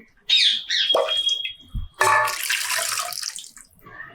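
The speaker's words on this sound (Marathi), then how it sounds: "कुकर धुवून घेते" Water splashes and sloshes inside a metal pressure cooker as it is swirled and rinsed, with a short pouring burst and clattering.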